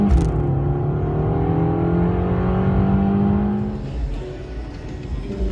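A 2024 Subaru Impreza 2.5 RS hatchback pulls away and accelerates, its engine note rising in a steady loud drone from inside the car, then settling into a quieter cruise.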